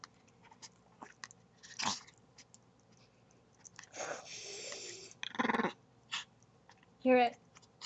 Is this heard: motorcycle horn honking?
no